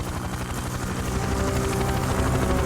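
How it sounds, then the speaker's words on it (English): Helicopter in an animated Godzilla series episode, carrying a character away: a continuous loud whirring drone with fast rotor pulsing, steady and close throughout, with no talking heard. "Dimanche escapes on a helicopter."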